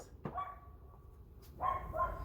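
A dog lets out two short, whiny barks close by, separated by a brief pause, over a low background hum.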